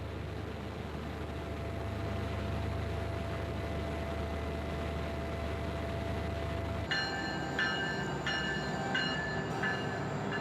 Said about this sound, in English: A train from Anchorage arrives once a day.